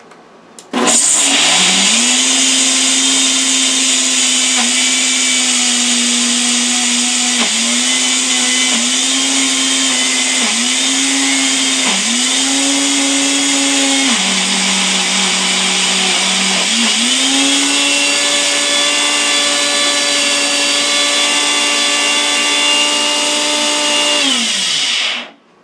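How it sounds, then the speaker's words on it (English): A loud Ninja blender running on boost whirs through a strawberry ice cream smoothie, a close, steady motor roar that dips and rises in pitch several times as the load shifts, then winds down at the end. "the Ninja is loud, so I'm going to hit the boost button and start."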